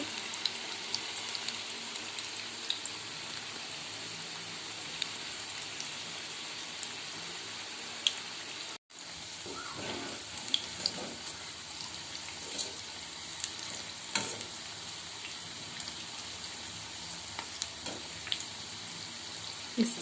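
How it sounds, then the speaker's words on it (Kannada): Mirchi bajji, chilli fritters, frying in hot oil as a steady crackling sizzle with scattered pops and spits, close and continuous throughout, with a brief dropout partway through. "ಇದನ್ನು ಎಣ್ಣೆಯಲ್ಲಿ ಫ್ರೈ ಮಾಡ್ಕೋಬೇಕು"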